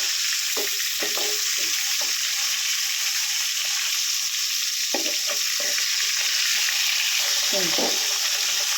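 Fish frying in oil in a brand-new clean pan, a loud steady sizzle throughout with several soft scrapes and knocks as the pieces are turned.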